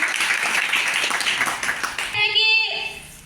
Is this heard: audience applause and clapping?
yes